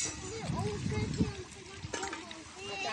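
Water pours and splashes outdoors in a forest picnic spot as hands are washed, short gurgling splashes close by while voices, including a child's, talk over it.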